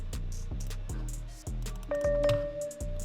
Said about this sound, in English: So next up, I went ahead and added this